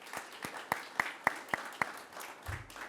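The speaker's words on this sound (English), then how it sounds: "let's give a round of applause for Fiona as well" Sparse, distinct handclaps sound at a steady pace, about eight crisp claps close by rather than a full crowd, at the ribbon cutting and grand opening of an affordable housing building.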